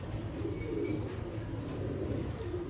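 Sialkoti breeder pigeons, a pure 35-type breed, coo together in a low, steady murmur that carries through the whole short stretch with a faint background hum.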